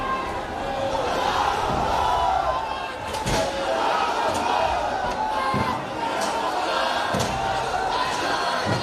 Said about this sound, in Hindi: आपने सुना, दंगाई नारा तकबीर अल्लाह अकबर के नारे लगा रहे हैं।